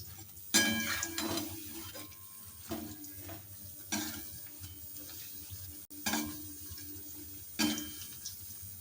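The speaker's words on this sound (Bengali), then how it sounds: "ছানটা দিয়ে আমরা ভালোভাবে পকোড়াগুলোকে উল্টে নেবো" Bottle gourd pakoras fry in hot oil and are turned with a slotted spoon, a steady close sizzle broken by several sharp scraping and clinking bursts of the spoon against the pan.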